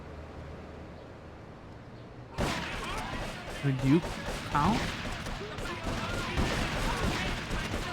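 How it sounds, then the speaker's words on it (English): Gunfire in Grand Theft Auto 3 Definitive Edition on Xbox Series X, a sudden burst of rapid, loud shots that continues as dense crackling fire, with a person speaking briefly over it. "The gunshot sounds are balanced well in this."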